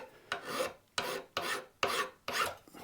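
Rhythmic file strokes deburr a drilled hole in a Stratocaster tremolo part, five close, crisp rasping passes in even succession with short pauses between.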